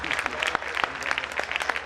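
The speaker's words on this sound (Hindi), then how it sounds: "जो समझ गए वो ताली बजाकर।" Audience applause at a Jain Panchkalyanak festival poet gathering in Rohini, a steady burst of dense clapping from a crowd filling the whole two seconds.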